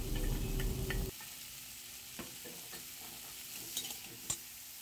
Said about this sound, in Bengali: ভালো করে সবজিগুলো নেড়ে চেড়ে নেওয়া হচ্ছে যাতে আদার কাঁচা গন্ধটা চলে যায়।